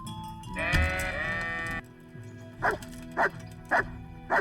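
A dog barks in the medieval video game Kingdom Come: Deliverance, four short, sharp barks evenly spaced after a bleating sheep-like call in the game's farmyard.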